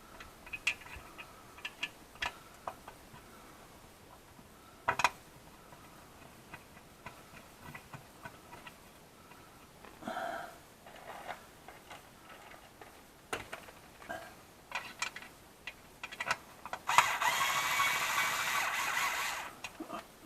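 Ratchet clicking as a sump pan bolt is fitted on a BMW Mini R56 during an oil leak gasket replacement, with faint sparse ticks and clicks close by in a quiet workshop, ending in a short burst of steady hiss.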